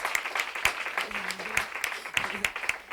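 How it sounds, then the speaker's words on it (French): A church congregation claps in praise of Jesus, uneven rhythmic clapping from many hands mixed with shouting and voices in the room. "Give Jesus a clap of praise"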